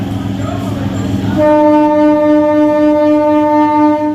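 A local train from Howrah to Amta rumbles at Santragachi station, then sounds a loud, sustained horn blast that holds for several seconds close by.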